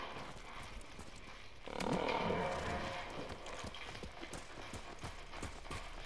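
Horse hooves clip-clop in a steady walking rhythm in the Ghost of Tsushima video game's snowy setting, close and fairly quiet, with a brief swell of other game sound midway.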